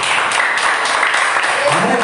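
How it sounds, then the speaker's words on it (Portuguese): A church congregation applauds together, steady dense clapping that fills the space throughout, fairly loud, with a voice speaking over it near the end. "Aplauda o Senhor Jesus"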